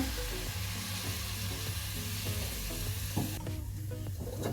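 Diced tomatoes stirred into a spiced mixture in a pan with the gas off produce a continuous close sizzle and frying hiss, with a few scraping stirs and a quieter patch near the end.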